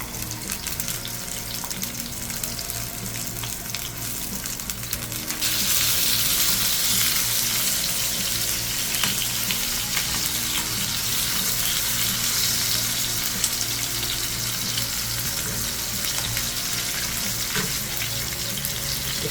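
Tomatoes sizzling and frying in a pan for a tomato chutney, a steady broadband hiss throughout that grows louder partway through as the pan heats or is stirred, with no talking.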